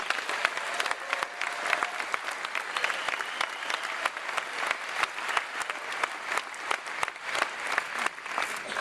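Audience applause for two Jeopardy contestants at an IBM Watson exhibition match at Lotusphere 2011, a steady dense wash of clapping from a sizable crowd lasting throughout, moderately loud with no voices on top.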